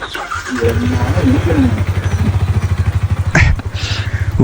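A motorcycle engine starts up and settles into a steady pulsing run before pulling away, heard up close under overlapping voices with a brief loud burst near the end.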